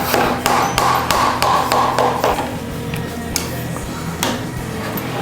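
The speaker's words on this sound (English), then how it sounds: "we'll give it a slight tap and it'll loosen these off" Hammer tapping the fork clamps on a 1998 Harley-Davidson, about a dozen sharp metallic knocks at uneven intervals, close by, with a faint voice in the background.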